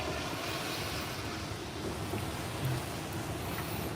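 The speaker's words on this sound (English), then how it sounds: "It's pouring down rain." Heavy rain pours down outdoors at night outside a fast-food restaurant, a dense, even hiss of downpour at moderate level with no voices over it.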